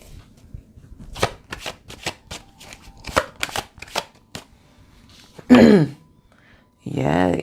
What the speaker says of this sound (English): Let's pull some cards in there.